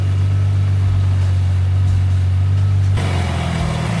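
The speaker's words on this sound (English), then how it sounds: "Don't rev my fucking car." Lexus IS200 engine running loudly close by, a steady low drone with a slight rise in revs toward the end.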